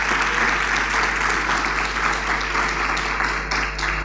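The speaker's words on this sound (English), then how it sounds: "Round of applause for the ladies and gentlemen." A conference audience at a youth conference opening ceremony gives the committee members a round of applause, sustained and full, many hands clapping together in a steady roar that tapers slightly at the end, with a low hum underneath.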